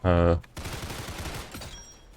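Video game gunfire from a gun fitted with a PPSH barrel, a rapid automatic burst of closely spaced shots rattling out loud and near after a brief tone, then fading.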